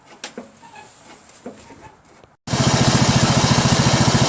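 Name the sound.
Craftsman LT1000 lawn tractor engine running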